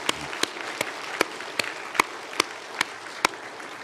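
A church congregation offers a round of thanks for the choir, steady soft applause with a few crisp claps standing out at regular intervals close by.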